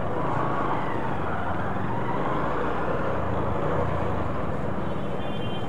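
Steady, dense road traffic rumbles throughout a slow traffic jam, a continuous loud wash of engines and tyre noise with no pauses and no clear speech.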